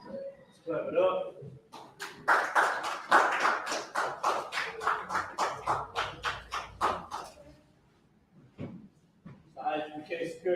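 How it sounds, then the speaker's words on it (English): A group claps hands in a rhythmic series of sharp, evenly spaced claps that build and then fade, with a person talking before and after during an online scripture class. "Clap it up."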